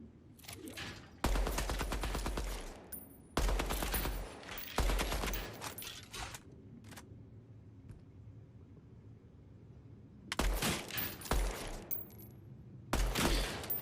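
Gunfire rings out in the Midnight Society playtest, a first-person shooter, as rapid automatic bursts separated by short pauses. The shots are loud and close, with a few single shots between the bursts and no talk.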